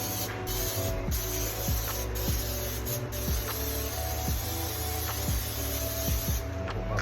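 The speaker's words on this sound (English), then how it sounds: "Next, come with a little vegetable oil spray." A hissing spray of vegetable oil cooking spray before baking flounder, a steady aerosol burst lasting several seconds over a low background hum.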